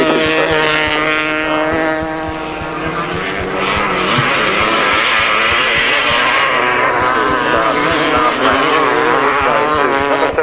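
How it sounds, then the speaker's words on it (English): Two-stroke grasstrack racing motorcycles, including a Yamaha, scream past together at a 1993 Frittenden grasstrack meeting, a loud, dense blend of revving engines with rising and falling pitch, continuous throughout with no voices. "Quite a mixture of engines, mostly two-stroke."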